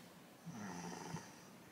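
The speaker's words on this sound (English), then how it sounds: "Jack the kitty has started snoring a lot." A single soft, rasping snore from a cat, faint and close, over a quiet background hiss.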